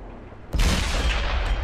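A tank cannon fires in World of Tanks, one sudden loud boom at about half a second that rolls into a long, dense rumble and stays heavy to the end.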